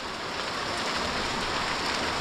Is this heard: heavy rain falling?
yes